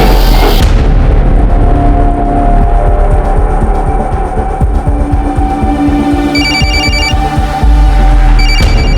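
A phone rings in short repeated bursts over a loud, busy background of thuds and rumbling commotion.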